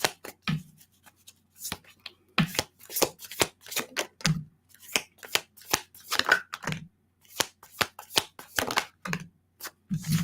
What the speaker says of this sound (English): I'll pull a card for you, Amy.